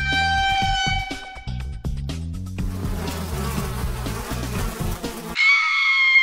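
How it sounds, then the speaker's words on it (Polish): Cartoonish bees buzz in a Bluey video game, a loud layered drone with rising tones and busy clutter that ends in a bright, steady high buzz. "Pszczoły."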